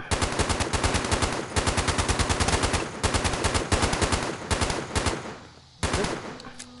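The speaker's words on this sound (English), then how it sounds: "Why is my gun shooting?" A gun fires in Fallout 76 in rapid automatic bursts, loud, close and evenly spaced shots in several strings separated by short pauses, with no talk over it.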